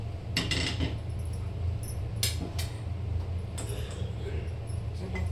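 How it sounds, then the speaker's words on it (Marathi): A metal kadhai is set down on a home kitchen stove, giving a few sharp metallic clinks and clanks spaced over several seconds against a low steady background hum. "कढई ठेवते"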